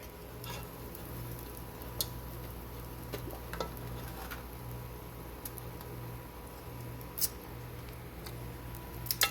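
Pancakes cook one at a time in a pan on medium heat, a quiet steady sizzle with faint scattered ticks and small clicks throughout, and no talking.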